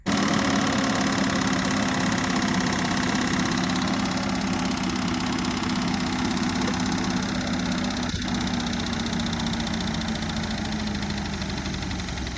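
A faulty Holden 186 engine bored out to 192 runs at a steady idle, a loud, close, continuous mechanical drone with a rough knocking character throughout, no voices.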